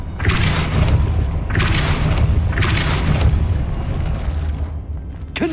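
Blasts from the Confringo spell in Hogwarts Legacy, three loud, booming hits in a row at a steady pace, each followed by a thick, rumbling tail.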